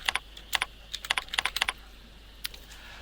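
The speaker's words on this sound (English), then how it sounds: "All you have to do is type in your supplier invoice number." Supplier invoice number typed on a computer keyboard, a burst of quick, crisp key clicks in uneven clusters, then a pause and one last tap, close and alone in a quiet room.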